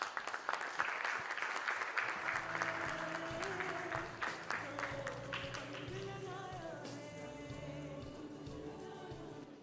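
At an empowerment conclave, the conference audience breaks into applause for a session moderator, a thick patter of clapping that thins out as music rises underneath.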